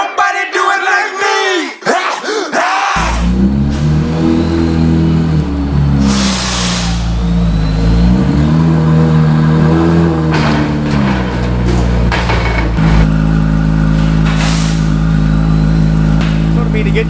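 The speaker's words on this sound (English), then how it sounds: "I love that exhaust note. Sounds so good." Corvette V8 in track mode revving hard, a loud, deep exhaust note rising and falling through several throttle blips, close by, after a brief burst of voices at the start.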